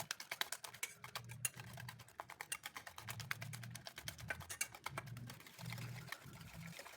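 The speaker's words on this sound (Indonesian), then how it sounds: "Kocok terus sampai berbuih." Eggs seasoned with salt and black pepper are whisked briskly in a bowl until frothy, giving a quick, steady run of light clicking and tapping strokes, close and continuous, over a low background hum.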